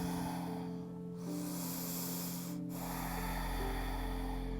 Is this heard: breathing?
yes